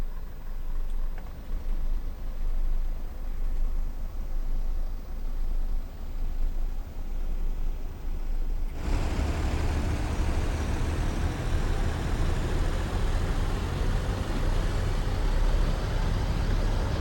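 A train on the North Trans-Pennine line in Train Sim World rumbles steadily as it pulls away, with a low engine drone that suddenly swells louder and brighter about halfway through, with no talking.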